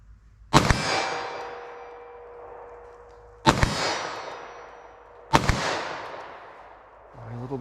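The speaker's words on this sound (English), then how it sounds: "Let me try the shorter barrel 9mm. All right, Taurus G2C." A Taurus G2C 9mm pistol fired at targets, three loud, sharp reports a few seconds apart, each followed by a long decaying echo.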